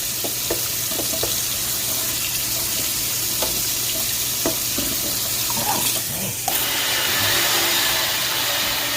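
Hot water runs steadily from a sink tap into a Butterball XL turkey fryer, a constant loud hiss and splash with a few small knocks, and the flow gets stronger near the end.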